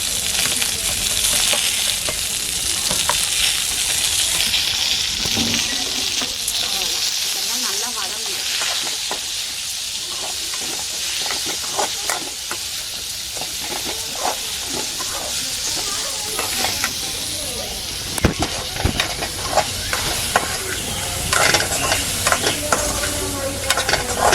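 Ingredients sizzle and hiss in a hot pan, with frequent scraping and knocking as a spoon stirs them, a steady close sound running for a long stretch without talk.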